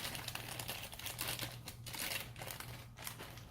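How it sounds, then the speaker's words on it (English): Plastic packaging crinkles and rustles steadily as parts from a DIY alloy T-model electric guitar kit are unwrapped close by, with a faint low hum underneath. "So these I'm actually unwrapping for the first time, in case you couldn't tell."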